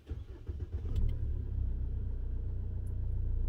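SsangYong Musso pickup with 109,000 miles cranks and fires, then settles into a steady low idle rumble, close and continuous with no talk.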